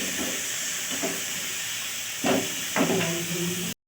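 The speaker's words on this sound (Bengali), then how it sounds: "আস্ত জিরে, শুকনো লঙ্কা, তেজপাতা ফোড়নে দিয়েছি।" Whole cumin, dried chilli and bay leaf sizzle in hot oil with a steady, bright hiss, broken by a few louder bursts of spattering and pan clatter, close by before cutting off abruptly.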